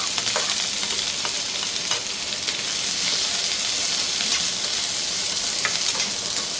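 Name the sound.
onion frying in hot oil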